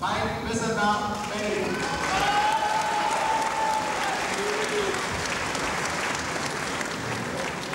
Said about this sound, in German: Viel Beifall für Mike Wissenbach